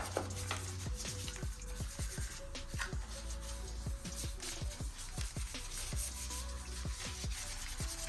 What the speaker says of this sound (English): Take a detail brush, get these rims, the rotors, the rims, all the little crevices